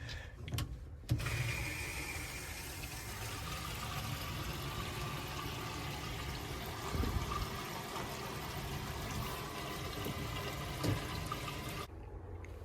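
Water turned on at a tap runs through a newly installed water softener, a steady low rushing hiss that continues evenly and faintly for most of the stretch before cutting off.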